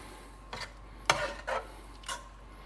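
A utensil scrapes around a pan, stirring garlic into a buttery pasta sauce with roasted cherry tomatoes: four short, quiet scraping strokes spaced apart, with no voices.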